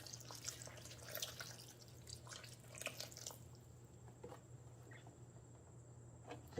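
Beef broth poured into a pot for ground venison chili: a soft, quiet liquid trickle and splash for a few seconds, followed by faint dripping and a last small clink.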